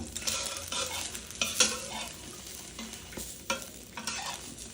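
A steady crackling sizzle of an egg frying in a hot pan, broken by a few sharp scrapes and taps of a utensil stirring.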